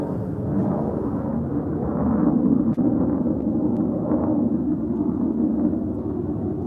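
A deep, continuous roar of four military jets rumbling overhead, steady and loud for several seconds with no talking.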